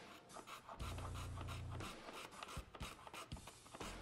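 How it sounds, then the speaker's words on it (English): A small hand plane chamfers the end-grain edges of a walnut piece: quiet, close, dry rasping strokes repeated several times, with no talking. "let's do the ultimate test and chamfer some edges on the end grain of that walnut"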